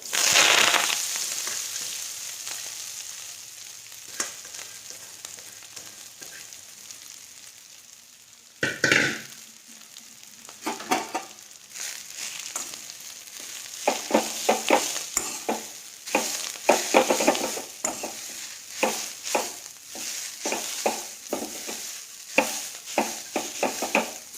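Chickpea leaves hit hot oil with garlic, cumin and mustard seeds in a pan for a village-style bhaji, giving a steady sizzle and then dense clattering bursts of stirring that grow busier toward the end.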